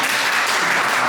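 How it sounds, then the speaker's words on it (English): A brief, dense wash of audience applause at a university event, steady and fairly loud for about a second. "please give ourselves a round of applause"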